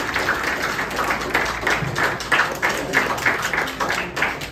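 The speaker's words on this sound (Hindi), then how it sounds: "बजाओ ताली।" A crowd at a free health checkup event claps in steady applause, a dense rhythmic patter of hands at moderate volume throughout.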